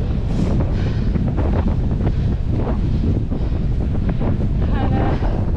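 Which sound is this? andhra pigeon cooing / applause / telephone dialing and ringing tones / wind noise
wind noise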